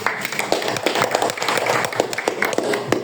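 A small group of children in a classroom clap their hands, a sparse ragged patter of individual claps heard nearby.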